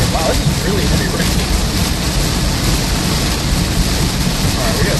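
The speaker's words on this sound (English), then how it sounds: "Wow, this is really heavy rain." Heavy rain pounds steadily on a vehicle during a severe thunderstorm in southwest Iowa, a dense, loud, unbroken roar of drumming water with a low rumble beneath.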